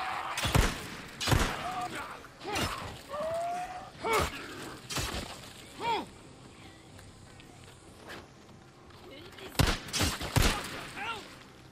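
Gunfire in the Days Gone video game: sharp, loud shots spaced irregularly across the scene, a few in quick pairs, mixed with scattered impacts and game sounds and voices talking in between.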